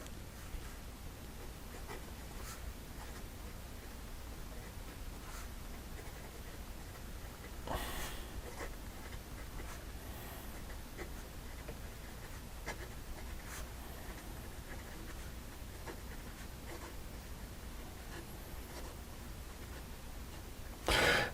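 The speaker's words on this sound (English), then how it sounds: "here we go with the rest of the writing sample" Steel-nib Pilot Prera fountain pen scratching across paper in a quiet room, a faint continuous scritching with small irregular strokes and brief louder moments, no voices.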